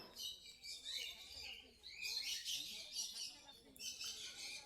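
Long-tailed finches at a crowded bird market chirp and twitter in quick, high bursts at low volume, with faint background chatter and other birds around them.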